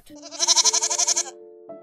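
A single goat bleat, loud and close, quavering rapidly for about a second before cutting off.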